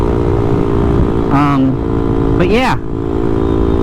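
A Honda Ruckus scooter running without an exhaust during a ride, a steady close engine drone throughout with brief spoken words over it.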